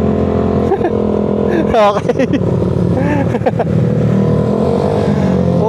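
A Honda PCX scooter engine hums and revs close by, with speech and a brief exclamation breaking in over the motor.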